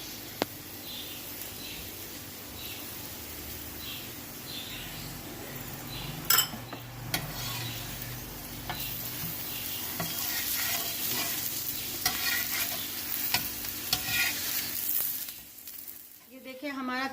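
Aloo paratha frying in ghee on a hot pan, a steady close sizzle with scraping and stirring sounds, a few sharp clinks of a utensil against the pan, fading near the end.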